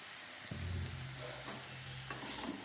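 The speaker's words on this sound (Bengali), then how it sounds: "আমি একটু তেলে নাড়তে থাকবো" Pieces of snake gourd fry in oil and are stirred with a utensil, producing a quiet, close sizzle marked by a few scraping stir strokes and light clatter.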